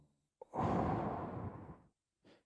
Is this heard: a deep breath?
yes